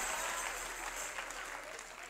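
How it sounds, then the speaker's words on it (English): A church congregation clapping for the pastor's birthday, dense continuous applause that stays fairly quiet and even throughout, with no speech over it. "Yeah, you can clap."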